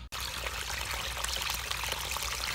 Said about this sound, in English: the water's actually flowing underground down the line